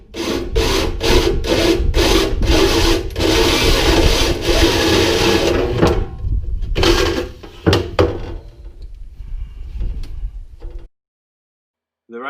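Sanding a RZR 800 rear cargo rack with beveled corners, a dense steady rasping sound in rhythmic strokes for about six seconds, then choppier bursts and scraping that stop before a short silence near the end.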